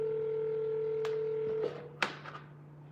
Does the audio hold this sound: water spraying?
no